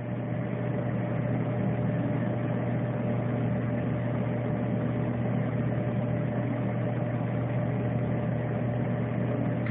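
A tractor engine idles steadily, a constant low hum with a strong droning tone, even and unbroken at moderate volume with no talking.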